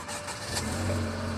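A 2018 Mercedes-Benz GLC 300, faulting with a crank-no-start when cold, has its engine cranking and catching, a short muffled mechanical churn rising into a running idle, moderately quiet.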